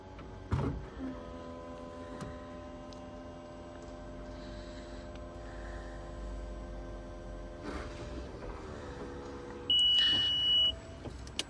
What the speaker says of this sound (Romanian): S-au închis și geamurile.